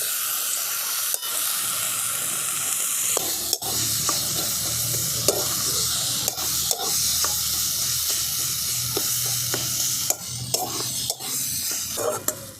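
Boiled potatoes and drumstick flowers stirred in a hot pan as a paratha filling. A steady sizzle and hiss sit under repeated sharp spatula scrapes and taps at an uneven rhythm.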